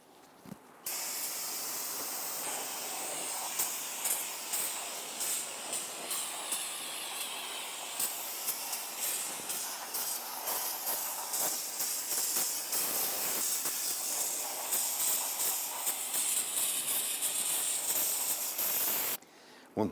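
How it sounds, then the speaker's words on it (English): Solvent sprays from an aerosol can onto a rear drum brake assembly of a 2000-2006 Toyota Tundra, a loud, steady hiss lasting nearly twenty seconds with small sputters. "Use a can of solvent to spray this down."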